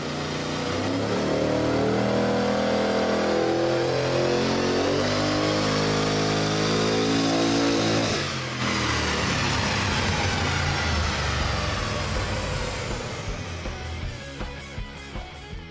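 Car engine on a chassis dyno with a 175 horsepower nitrous oxide shot, revving hard and rising steadily in pitch for about eight seconds, then a brief drop and a loud sustained roar that fades into popping and crackling as the run winds down.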